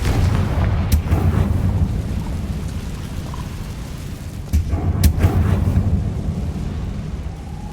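A Confringo spell blast in Hogwarts Legacy brings sharp cracks and thuds over a dense, rumbling game-battle backdrop, with a few distinct impacts near the start and middle.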